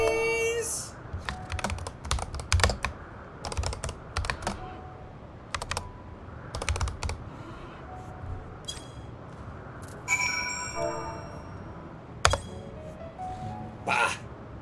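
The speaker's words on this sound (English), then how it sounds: "use your keyboard to say, please, Emmett Selk" Someone types in bursts on a computer keyboard while playing Final Fantasy XIV: Endwalker, quick clusters of close, crisp key clicks separated by pauses, with chimes and tones from the game mixed in.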